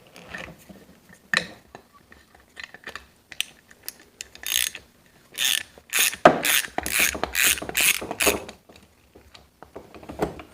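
Ratcheting clicks of a 9/16 socket wrench with an extension working a bolt on an H&R Model 088 20 gauge shotgun, sparse clicks at first, then dense bursts of close, sharp ratchet pawl clicking with no talk.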